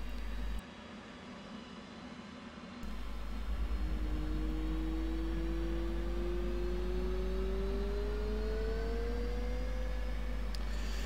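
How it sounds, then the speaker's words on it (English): An F/A-18C Hornet jet engine spools up in the DCS World flight simulator, a steady rising whine climbing in pitch over a low rumble, loud and continuous with no talking. "we should start hearing some nice lovely groans coming from the back of the plane as the engine kicks into life"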